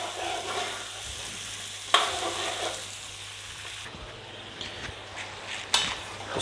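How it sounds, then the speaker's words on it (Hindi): Mutton pieces frying in melting fat, a steady close hiss of sizzling grease with occasional sharper crackles and stirring scrapes, no voices. "अभी मैंने गोश्त डालना शुरू कर दिया है, तो बाकी जो चर्बी है ये साथ साथ पिघल जाएगी।"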